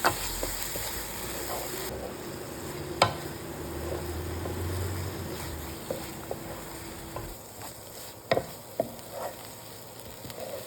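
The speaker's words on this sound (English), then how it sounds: "add in the tomato and cashew paste. Saute this until it becomes thick." Tomato and cashew paste sautés in a pan, a soft steady sizzle running throughout with a few sharp clinks of a spoon against the pan, fairly quiet and close with no voices.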